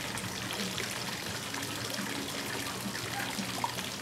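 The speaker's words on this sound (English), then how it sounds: "Yeah, it's a hose." A garden hose runs outdoors while a lawn is watered, a soft continuous trickle and splatter of water, fairly faint and steady, with no clear speech.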